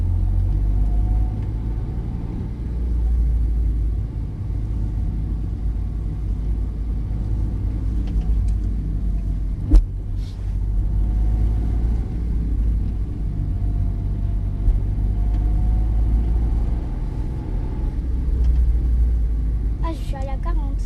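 A car in a driving lesson rolls along with a low, steady engine rumble and mild rises in revs, under continuous instructor and learner conversation, with a single sharp knock partway through.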